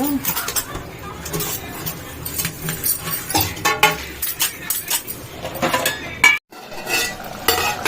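Dishes and metal utensils clink and clatter while being cleaned in a home kitchen during cooking, a loud, irregular series of close knocks and rattles with a brief silence near the end.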